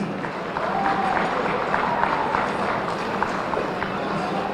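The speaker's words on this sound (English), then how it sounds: "I want everybody to give them a big round of applause, please" At an ITServe entertainment session, an audience gives the organizing team a round of applause, a steady wash of clapping with crowd murmur and faint voices mixed in, moderately loud and even throughout.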